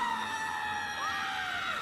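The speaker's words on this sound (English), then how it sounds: "And now for comedically over-the-top scream" A comedically over-the-top scream from a woman in a film, one sustained high wailing cry that bends in pitch and carries on for a couple of seconds.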